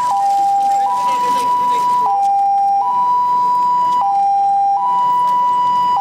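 An ambulance siren wails loudly and close, alternating between two tones in a steady repeating pattern for the whole stretch.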